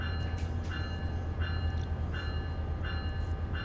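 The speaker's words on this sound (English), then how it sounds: "So coming out of LA Station, our bell on so people don't step out in front of us." A locomotive bell on an EMD F125 Metrolink train in Train Sim World 4 rings as the train leaves LA Station, striking at a steady pace about every 0.7 seconds over a low engine rumble.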